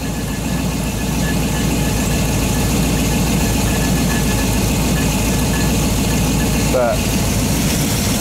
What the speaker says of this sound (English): She just is a snappy little motor.